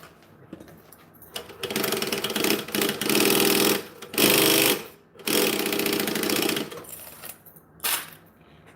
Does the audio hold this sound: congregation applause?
no